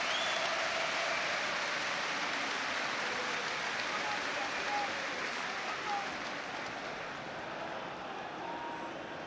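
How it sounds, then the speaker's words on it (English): Football crowd at Anfield stadium during a Liverpool versus Roma match applauding a player, a distant, washy roar of clapping that holds steady throughout, broadcast commentary voices faintly present under it. "And applause ringing around Anfield here for Alex Oxlade-Chamberlain."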